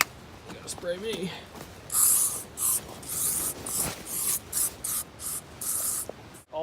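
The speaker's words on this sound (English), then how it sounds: "Spray the Yuba dog with bug spray." Repeated short hissing bursts of an aerosol bug spray can, about nine quick sprays in an irregular rhythm, close by, outdoors at a remote site, after a brief voice at the start.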